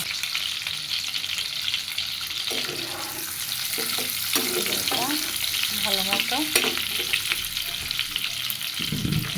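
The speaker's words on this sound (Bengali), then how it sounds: "এই তেলের ভিতরে আমি ডিম আর এই আলুটা ভেজে নেব।" Egg and potato fry in oil with a constant loud sizzle and occasional stirring scrapes, while someone speaks briefly over the crackling.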